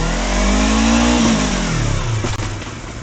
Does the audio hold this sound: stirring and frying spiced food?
no